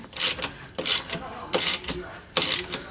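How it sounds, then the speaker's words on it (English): Ratcheting wrench clicks in four quick bursts, close and loud, as Eibach sway bar mounts are tightened on a BMW E39, with short pauses between strokes. "All that's left need to be done is tighten down the sway bar"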